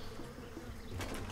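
A giant swarm of bees buzzing in the video game Trine 2, a continuous droning hum at moderate level with a brighter, fuller burst near the end, no talking.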